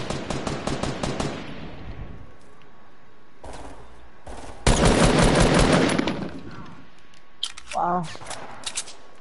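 Video game gunfire: rapid automatic bursts crackle up front, then go quiet before louder sharp volleys and scattered single shots return. A voice briefly exclaims and players talk between the shots.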